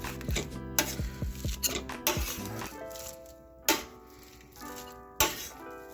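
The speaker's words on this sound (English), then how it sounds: "right now I'm really mashing it" Cooked rice made with extra water being mashed for curd rice, with a series of sharp scraping and tapping knocks against a pot or bowl, close and fairly loud, slowing to occasional isolated clacks.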